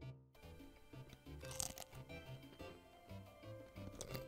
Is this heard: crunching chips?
yes